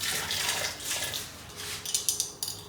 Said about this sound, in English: Going to just add a little bit of water